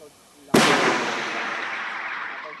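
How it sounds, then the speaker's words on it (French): A single loud detonation from an automated anti-hail cannon in an orchard, a sharp blast followed by a long rumbling decay that fades slowly over a couple of seconds. "Ce puissant bruit de détonation, c'est celui d'un canon anti-grêle."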